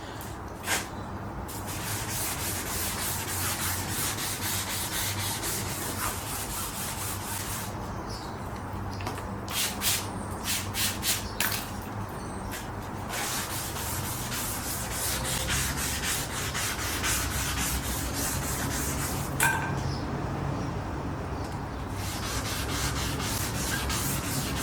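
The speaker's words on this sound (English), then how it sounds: "this is 1000 grit sandpaper" Steady rubbing of 1000 grit sandpaper on a 2003 Suzuki Katana GSX600F motorcycle part, continuous close scraping strokes running throughout with a few brief pauses and no talk.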